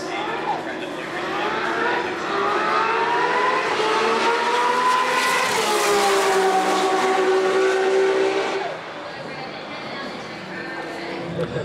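A 790-horsepower turbocharged G35 on a flying 500 high-speed run at a time attack event, its engine note holding loud and steady with rising harmonics before easing off near the end, voices faintly mixed in.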